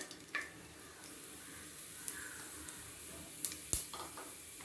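Whole spices go into hot oil for a chicken kuzhambu: a bay leaf, cinnamon stick, cloves, cardamom and fennel seeds. They sizzle faintly in the pan, with a few soft pops and stirring scrapes.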